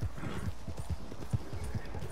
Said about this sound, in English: My horse is way faster than yours.